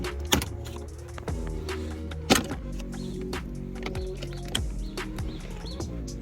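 Plastic shifter trim on a 2006 Honda Accord being pried loose inside the cabin, giving a run of sharp clicks and snaps with two louder pops near the start, over a steady low hum.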